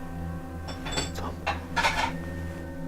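Several sharp clinks and clatters of dishes in quick succession, fairly close, over a steady low electrical hum, in the horror game Demonic Presence.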